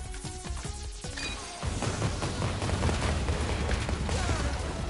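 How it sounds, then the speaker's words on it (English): A chaotic barrage of booms and crashes in the video game Mega Man 11, dense and loud, with a few musical tones at the start before the blasts take over. "the explosions are messing me up"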